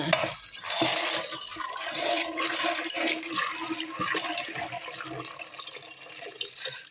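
Frozen legumes are rinsed under a running kitchen tap, with a steady rush of water splashing into the sink and over the beans throughout, close and fairly loud with small irregular splashes.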